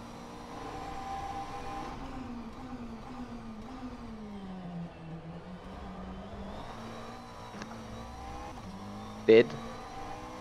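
A McLaren 720S GT3 race engine in rFactor 2 at Sebring hums steadily, its pitch rising and dipping as it accelerates, fairly faint under a voice commenting, with a short sharp click near the end.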